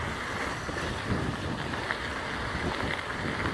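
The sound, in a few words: wind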